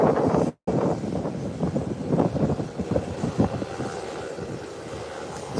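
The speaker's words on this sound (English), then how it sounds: "the Beechcraft is now hitting the runway" A Beechcraft private jet landing on a runway, heard from a distance as a rumbling, wind-buffeted roar with a brief dropout near the start.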